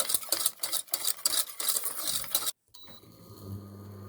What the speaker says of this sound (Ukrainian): І так також дуже гарно вимішуємо, щоб цукор розчинився.